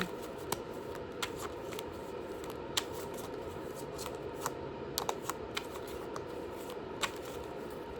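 Tarot cards are shuffled close by, a soft continuous riffling rustle punctuated by small sharp card clicks at irregular moments, quiet overall.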